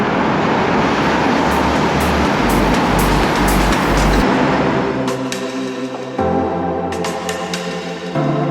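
Car and bus traffic roars through a road tunnel around a cyclist, a loud echoing rush with engine rumble that eases midway, leaving a lower idling drone and passing vehicle hum.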